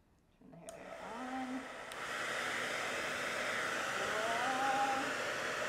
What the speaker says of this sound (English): I've got the ping pong and the hair dryer